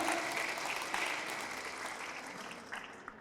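Applause from a church congregation after a scripture reading at a Catholic service, a steady wash of many hands clapping that slowly fades over a few seconds, with no talking.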